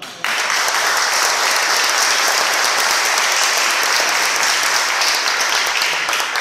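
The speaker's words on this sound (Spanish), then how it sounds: "Yo quiero que le demos un gran aplauso." Loud, dense applause erupts suddenly and holds steady as a crowd claps together for a talk on songs about conflict and peace, continuous and close.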